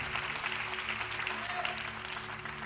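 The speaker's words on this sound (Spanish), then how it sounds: "Vamos a dar un aplauso por ellos" Steady clapping from a crowd at a church congress, fairly quiet and continuous throughout, with a faint hum underneath.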